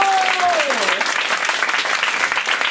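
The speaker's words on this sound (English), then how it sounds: "Another round of applause for Pat Kinko" Steady audience applause for a guest at a live Hawaiian aloha event, dense clapping throughout with a brief tonal sweep near the start.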